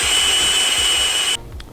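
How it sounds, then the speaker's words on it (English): A power drill bores steadily into an engine block with a loud, constant high whine that stops abruptly near the end, followed by a brief quiet tail. "we need to drill about 26 millimeters"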